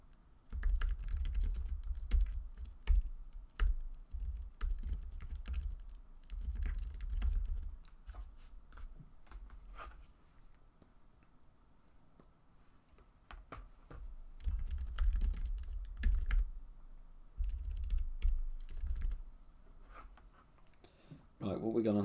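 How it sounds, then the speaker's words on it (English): Typing on a computer keyboard comes in bursts of rapid, close clicking with short pauses between runs, and a voice talks over parts of it. "if you hear a load of typing"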